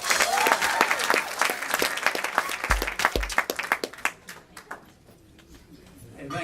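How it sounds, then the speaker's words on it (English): Comedy club crowd at Punchline clapping and cheering for a comic, dense close applause with sharp individual claps that thins out toward the end, with voices mixed in. "Everybody give a big round of applause for Daniel Humber, everybody."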